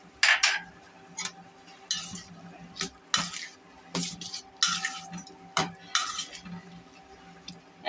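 A spatula scrapes and knocks against a pan in irregular bursts as dried fish (shutki) is stirred into a well-fried spice base for a curry with taro stolons and jackfruit seeds, with faint sizzling underneath.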